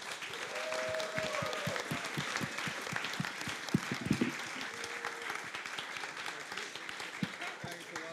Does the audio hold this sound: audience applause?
yes